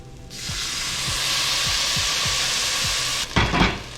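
White wine poured into a hot pan of toasted risotto rice with mushrooms sets off a loud, steady frying sizzle and hiss that holds for about three seconds, then bursts into a rougher hissing flare near the end.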